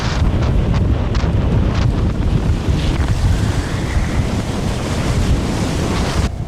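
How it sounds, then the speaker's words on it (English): Loud storm wind roars continuously while waves crash and surge repeatedly against a sailboat's hull, with occasional sharper splashes; no voices. "The waves came crashing in one after the other,"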